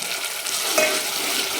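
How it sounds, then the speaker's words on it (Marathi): Masala for a mutton curry cooks in hot oil in a pan, making a steady, close sizzle and frying hiss, with faint stirring scrapes and no voices. "आपला एकदम मसाला रट रट रट रट असं तेलामध्ये शिजला पाहिजे"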